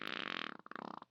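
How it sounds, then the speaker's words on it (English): A horrendous fart: a loud, raspy, buzzing blast that tails off into a string of short, wet sputters. "Chris's horrendous fart spared him from being assaulted"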